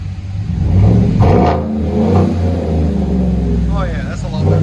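A Chevy 5.3L V8 with a Black Widow exhaust revs up and settles into a loud, close, throaty rumble, with voices talking over the engine.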